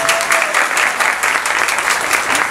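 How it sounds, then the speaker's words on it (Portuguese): A crowd at a municipal breakfast for street sweepers claps loudly for the infrastructure secretary, sustained dense applause with a lively, even rhythm from start to finish. "a quem eu peço uma salva de palmas."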